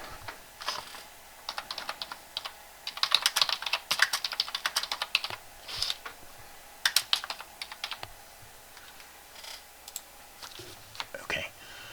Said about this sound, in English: let me type in the message